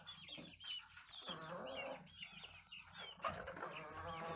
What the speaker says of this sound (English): This is probably a little rooster.